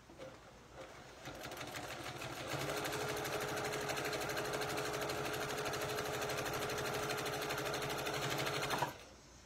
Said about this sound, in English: I'm sewing right at the edge, 1/4 inch